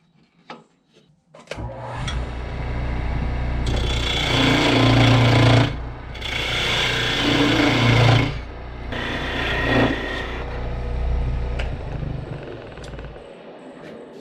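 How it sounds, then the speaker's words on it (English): A wood lathe spins up and turns a table leg, giving a loud motor drone overlaid with rough bursts of scraping and rubbing as the tool works the wood, pausing briefly between passes before winding down. "It's a lot easier to clean them up on the lathe."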